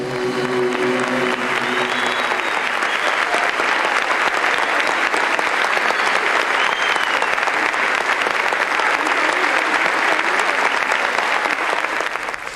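Sustained, dense applause from a large concert crowd of thousands in a hall, steady and loud throughout, with some cheering mixed in near the start.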